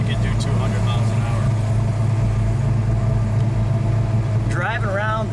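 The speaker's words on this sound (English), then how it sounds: "Driving around the city of Chicago In a Hemi Daytona." A 1969 Dodge Charger Daytona with a 426 Hemi engine rumbles steadily from inside the car while driving through Chicago city streets, a loud constant low drone with someone talking over it.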